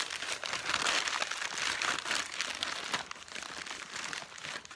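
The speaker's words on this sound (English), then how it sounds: "I might wrap some paper around the head" Paper is crumpled and wrapped by hand around the head of a paper mache sculpture, giving continuous close crinkling and rustling in irregular bursts.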